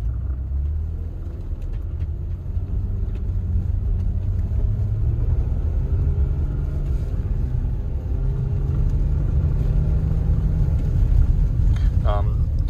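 A car accelerates on a snowy road on Michelin X-Ice Snow winter tires, a steady close low engine rumble with road noise building gradually, and a brief higher squeal near the end.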